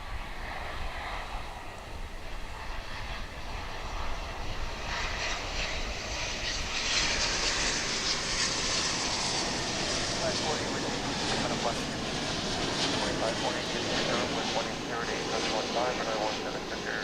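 A Boeing 777-223ER heavy jet lands at DFW airport after a long flight from Buenos Aires, its engine roar building steadily and filling the scene for the full length, with wind noise in the background.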